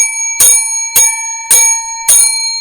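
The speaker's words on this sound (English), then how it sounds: "I will now ring the bell 50 times." A bicycle bell rung four times in a steady rhythm, each bright metallic ring sharp and loud, close up with short gaps between, no talking.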